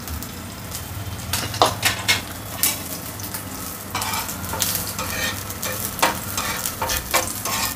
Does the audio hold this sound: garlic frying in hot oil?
yes